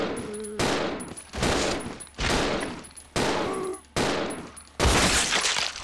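Gunfire from the zombie survival game Resident Evil 0 HD Remaster: six loud, sharp shots spaced about a second apart, each with a decaying echo.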